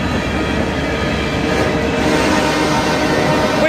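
Rock-carrying freight train rumbling steadily past at close range, a dense continuous roar of wheels and cars with no break and no voices.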